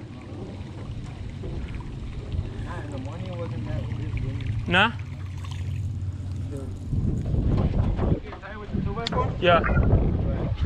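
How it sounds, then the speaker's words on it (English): Wind blowing across a lake while fishing from a drifting boat, a steady rushing buffet on the microphone with louder gusts, under brief talking and the odd knock. "Hey man, it's windy, huh?"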